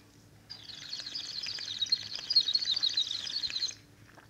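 A person imitates a flock of birds with their mouth, a burst of high, rapid chirping and twittering lasting about three seconds, rising to a busy peak before stopping abruptly.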